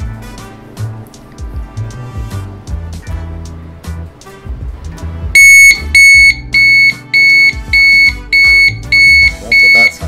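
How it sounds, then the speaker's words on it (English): Rumbling, clattering sounds give way to a loud digital alarm from an SXE Electronics wireless charging alarm clock at its highest setting, beeping in a steady repeating pattern of short bursts. "Set the alarm for highest setting here. As soon as this goes off, set it down."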